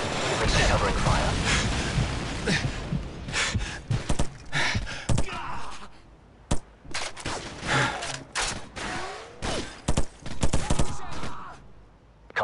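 Dense gunfire bursts and explosions from a Call of Duty Modern Warfare battle, loud and close, with sharp repeated shots breaking up an ongoing firefight while voices call out over the noise.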